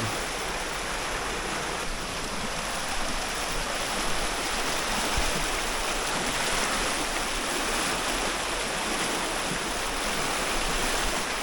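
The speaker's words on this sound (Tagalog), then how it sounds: "Rumargas ang tubig." A rushing stream below a steep mountain trail near San Pablo pours steadily, a dense, constant hiss of water holding even and fairly loud throughout, with no talking.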